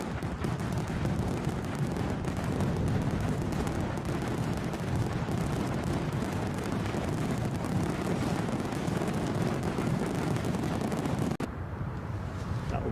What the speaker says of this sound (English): I'll do the fireworks now, Terry.